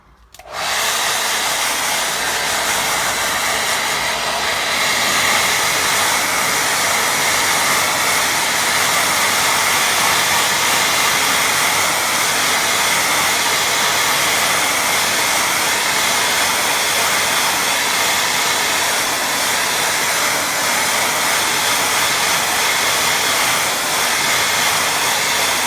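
A hair dryer blasts a watercolour painting of hills to dry it, switching on abruptly and then roaring loud, close and steady without a break.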